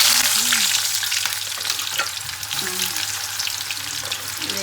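Food fries in hot oil in a pan while cooking haleem, with a loud, continuous sizzle close by and occasional stirring clatter running over it.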